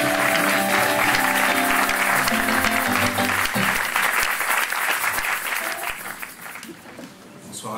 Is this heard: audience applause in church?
yes